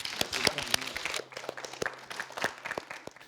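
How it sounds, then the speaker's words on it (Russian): A small audience at a youth forum with a regional minister claps in scattered, uneven hand claps, fuller at first and then thinning to sparse individual claps, fairly faint in the room. "Давайте подарим друг другу аплодисменты."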